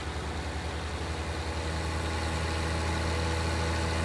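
A Deutz tractor engine runs steadily at a low, even idle in Farming Simulator 19, with a deep rumble and a faint mechanical chug and no voices, heard from the cab.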